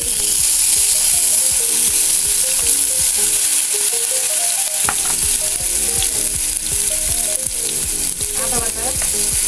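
Onion paste sizzles and fries loudly in a pan with melted sour yogurt, a steady crackling hiss with stirring scrapes throughout.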